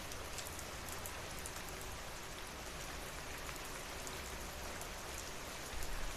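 Steady rain falls in a village, a dense, even hiss of drops on surfaces lasting throughout, close and constant with no voices.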